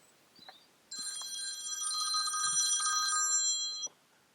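A telephone in a caravan workshop rings with a steady electronic bell tone for about three seconds, fairly clear against a quiet room, with a few soft knocks before it.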